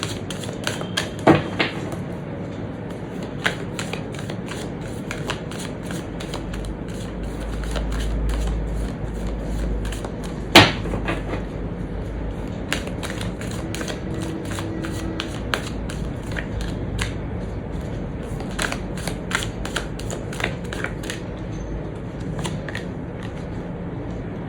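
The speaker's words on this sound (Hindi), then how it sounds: "जब तक मैं कार्ड शफल कर रही हूँ" Tarot cards shuffled by hand for a full moon reading, a long steady run of crisp riffling and flicking with scattered sharper snaps and one loud slap, close and continuous with no talking.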